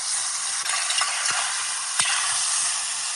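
Steak sears in a hot pan with a steady, dense sizzle throughout, broken by a few sharp clicks and scrapes as the meat is turned, close and fairly loud with no talking.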